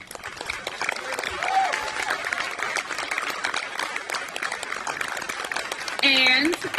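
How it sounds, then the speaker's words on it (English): A crowd at an outdoor Pride and transgender flag-raising ceremony gives a speaker sustained applause, a continuous crackling clatter of many hands with a few cheers and whistles rising near the end. "with the best possible round of applause"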